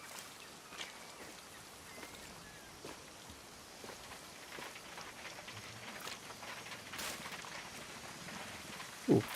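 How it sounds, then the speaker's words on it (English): Far Cry 6 rain falls steadily in a game scene, with light patter and scattered sharp pings off metal, fairly quiet, plus a brief louder knock near the end. "I like the pinging metal sound, that's good. The rain off the pinging metal."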